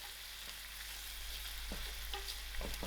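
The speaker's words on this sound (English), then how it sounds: "I will allow this to fry a little." Dried shrimp frying in a pan of oil for a calabash dish, a soft continuous sizzle with a few faint stirring scrapes, fairly quiet and without voices.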